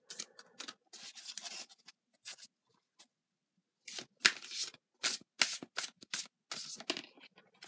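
Tarot cards from the Light Seer's Tarot deck are handled and flipped over. They make a run of close, crisp papery snaps and brushing shuffles in irregular bursts, with a short quiet pause in the middle.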